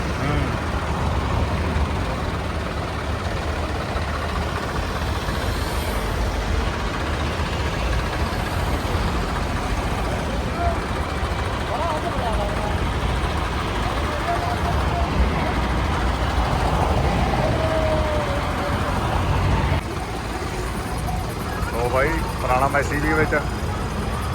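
Tractors stand stuck in a traffic jam during a farmers' tractor road march against a land pooling scheme. Their engines idle and rumble together in a dense, continuous drone, and voices talk underneath.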